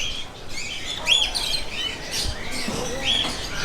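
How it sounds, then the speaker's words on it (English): Several birds chirp and squawk sharply nearby in quick, overlapping bursts against a busy background hum, near fish shops in Thailand. "Back past the noisy birds."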